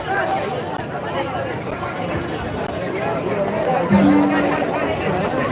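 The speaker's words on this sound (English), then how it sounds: "Oh, the crowd is crazy, man." A crowd at a dance event keeps up a steady, dense babble of chatter and calls, with brief whistles near the end, loud and close throughout.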